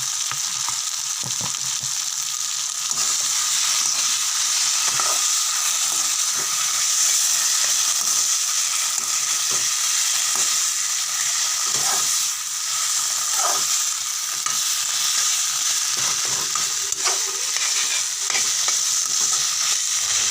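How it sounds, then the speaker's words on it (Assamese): Coconut fried together with taro (kosu) in a pan for an Assamese-style sabji, giving a steady, close sizzle with scattered stirring scrapes and clicks throughout. "এতিয়া মই কচুত মিহলাই দিয়া নাৰিকলবোৰ ভালদৰে ভাজি লৈছোঁ"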